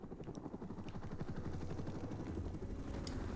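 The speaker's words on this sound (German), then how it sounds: "Feindlicher Helikopter." An enemy helicopter in Call of Duty Modern Warfare Remastered thrums steadily with a low, rapid rotor chop and engine drone that holds at moderate loudness throughout, with no talking.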